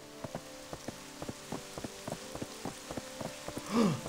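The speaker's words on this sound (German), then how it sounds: "Es regnet. Leute, das ist das erste Mal, dass es regnet." Rain falling in the video game Black Desert, a steady patter of scattered drops tapping in an irregular rhythm, with a brief swelling whoosh near the end; no talking.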